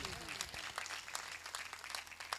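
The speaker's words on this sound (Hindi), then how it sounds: "आए अपने अपने लिए जोरदार तालियां बजाइए।" A church congregation at a sermon claps briefly in a loose, scattered burst of applause, faint and somewhat distant, with a voice speaking over it.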